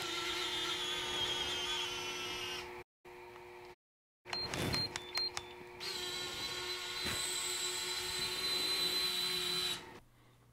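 A DJI Inspire drone carrying a Skyzimir STORK payload drop system gives off a steady, loud high-pitched motor whine. It cuts out briefly, then a few sharp mechanical clicks sound before the whine resumes and holds to the end.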